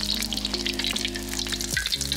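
A sunny-side-up egg with a runny yolk frying in a pan as a topping for Malaysian village-style fried rice, giving a steady, close, continuous crackling sizzle with a tonal hum underneath throughout.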